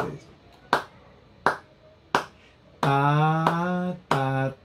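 Hand clapping keeps the beat in a rhythm-reading exercise, with several sharp, evenly spaced claps near the microphone, alternating with a sung or chanted voice holding sustained syllables between them.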